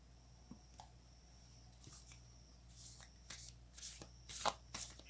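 A deck of cards shuffled by hand for a tarot reading gives soft riffling bursts that grow busier and louder toward the end, close and quiet with no talk.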